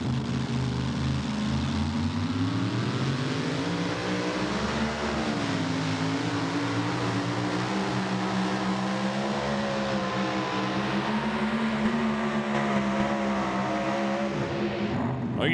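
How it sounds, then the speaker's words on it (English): The Pile Driver, a limited pro stock pulling tractor from Litchfield, Kentucky, roars loud and close under steady load, its engine pitch rising and falling as the throttle is worked, with a sharp change near the end. "You can hear him kind of working the throttle a little bit as well."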